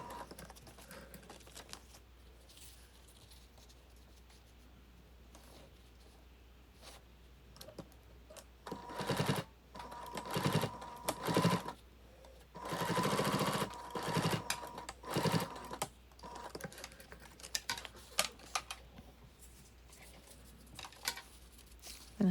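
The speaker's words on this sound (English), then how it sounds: "I'm adding the next little piece and sewing it at 3/8 of an inch." Sewing machine stitching padded backpack strap binding at 3/8 inch with backstitching, running in several short bursts of varying length amid quiet pauses and light handling clicks.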